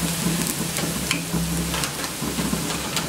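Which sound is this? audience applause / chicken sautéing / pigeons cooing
chicken sautéing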